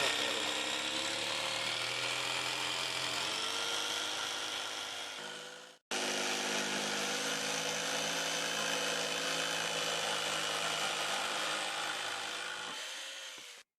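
A power saw cuts a wheel arch opening in a campervan side panel, a loud continuous whining rasp that briefly stops and restarts, then winds down at the end, close and steady.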